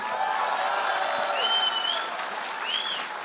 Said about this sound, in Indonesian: Kita kasih tepuk tangan buat mereka semua.